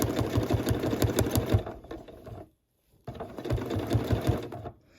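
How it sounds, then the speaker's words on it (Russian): A sewing machine stitching raincoat fabric runs in two fast, rapid-ticking bursts, close and loud, separated by a short pause. "Сейчас изменился звук, это плащевка ткань, поэтому звук такой немножко."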